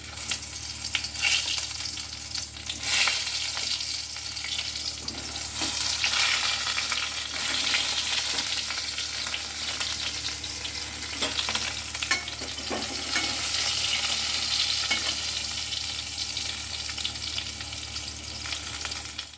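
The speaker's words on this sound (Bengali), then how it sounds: "তো বেগুনগুলো আমি এক এক করে ভেজে নিচ্ছি।" Eggplant pieces fry in hot oil in a pan, one batch after another, giving a loud, continuous sizzle close by with intermittent scrapes and stirs of a spatula throughout.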